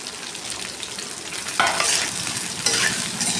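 Chopped okra being sautéed in a pan, a dense continuous sizzle that swells as a spatula stirs and scrapes through it twice, close and fairly loud, with no talking.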